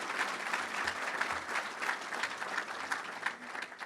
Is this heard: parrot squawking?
no